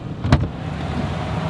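Car driving slowly through Fort Bragg streets in search of a hotel vacancy, a steady low road rumble heard from inside, with one brief louder swell early on before settling back to an even drone.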